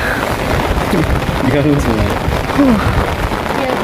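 Rain pours steadily at the Chocolate Hills in Bohol, a dense, constant hiss and patter close around the microphone, while people talk over it.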